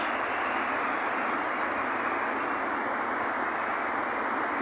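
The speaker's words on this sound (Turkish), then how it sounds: "İki tane Mercedes otobüs geçiyor." Two Mercedes buses pass by in a steady, loud broadband road-engine roar with tire and traffic noise, holding constant for several seconds and carrying faint high-pitched whines above it.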